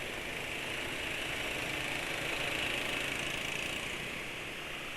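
A stock Yamaha NMAX scooter with its CO adjusted to +5 hums steadily up close, its engine note swelling slightly under gentle throttle, with no voices.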